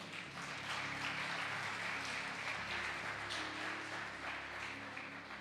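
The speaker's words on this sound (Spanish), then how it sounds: "dale un aplauso al Señor" A church congregation applauds the Lord after a sermon, a soft, continuous patter of many clapping hands heard at a distance, steady from start to finish beneath a faint low hum.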